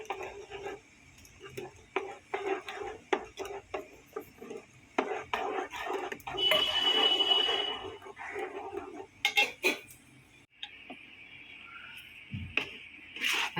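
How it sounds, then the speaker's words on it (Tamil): Flour being stirred into a pan for adhirasam, a sweet, with repeated scraping and clinking of a spoon against the metal pan at close range, irregular and fairly quiet throughout. "இப்போ நம்ம மாவு போட்டு கிண்டிக்கலாம்."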